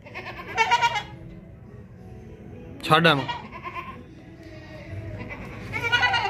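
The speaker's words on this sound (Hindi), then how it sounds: "ये बकरी चेक करें भाई, बहुत ज़बरदस्त बकरी है।" A goat bleats in several loud, wavering calls close by, with a kid nearby, interspersed with someone talking.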